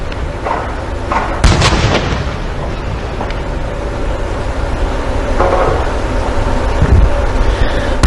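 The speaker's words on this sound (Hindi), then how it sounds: "Honorable President of India receiving 21 guns live on your screen." Artillery guns firing a 21-gun salute for the President of India at a naval fleet review, with several heavy booms spaced seconds apart over a loud, constant outdoor rumble, distant and echoing.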